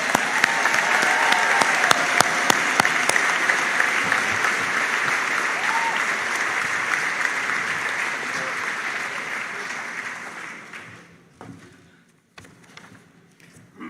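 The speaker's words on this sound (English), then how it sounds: "Y'all give yourself one round of applause." Graduation ceremony audience applauding, a dense sustained wash of clapping that holds steady for about ten seconds, then fades into scattered claps and a few last taps.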